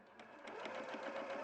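A sewing machine stitches fabric in a brief, quiet burst, its steady whirring hum and rapid needle pulses rising slightly as it runs.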